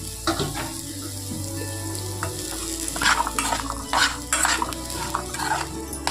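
Boiled kabuli chickpeas are stirred into a frying pan for a Karnataka-style usli, with a spatula scraping and clinking against the pan over a low sizzle; the stirring strokes come in irregular bursts close to the mic.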